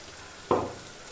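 Onion paste dropped into a hot pan while cooking lobia ghugni, giving a sudden close sizzling burst that swells and then fades over about a second, with no talking.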